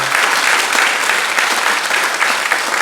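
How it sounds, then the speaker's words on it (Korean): A church congregation claps in welcome during a Sunday morning service, with loud, dense applause held steady and close for the whole stretch and no speech over it. "우리 박수로 우리 한번 환영하도록 하겠습니다"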